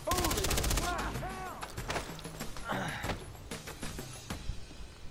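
Gunfire in the Far Cry 3 video game: a rapid burst of shots followed by scattered single shots and impacts, loud and near, mixed with game effects.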